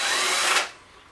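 A small cordless impact driver runs at full speed in a short steady burst of loud high-pitched whirring, then cuts off and leaves a quiet tail.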